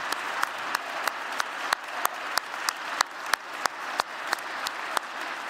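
Graduates at a winter commencement ceremony receive sustained applause from the crowd, steady dense clapping with periodic sharper claps standing out, moderately loud and without talk.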